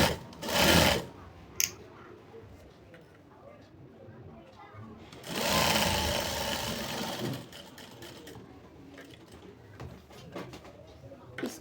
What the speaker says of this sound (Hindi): अब इस तरह से ऊपर से सिलाई लगा के ले लेंगे।